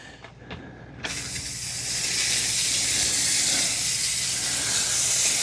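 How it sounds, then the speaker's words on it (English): Steady, loud hiss of steam from a Shark steam mop (S100 or S2001 steam starter) surges in after a brief quieter start and keeps a broad, continuous rush to the end, close by with no talking. "The steam's a little bit hit or miss."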